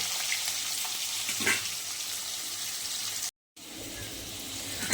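Potatoes fry in oil with salt, a steady hissing sizzle heard close, with a soft scrape of stirring partway through and a brief dropout near the end.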